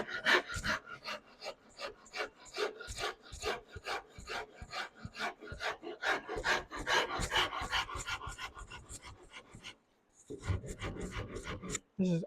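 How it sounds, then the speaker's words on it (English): A coarse rasp files a wooden guitar neck near the heel, in quick, even rasping strokes close by, briefly pausing before starting again. "I'm in here with my down and dirty rasp again."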